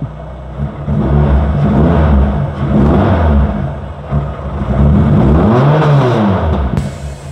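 A Honda Jazz rally car fitted with a K24 engine revs hard close by, its loud, rising and falling roar holding steady with repeated throttle blips and no talk.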